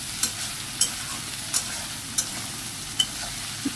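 Chicken frying with ginger and garlic in a pan, stirred steadily: a continuous sizzle with sharp periodic scrapes and clinks of the utensil about every half to three-quarters of a second, close and alone without voices.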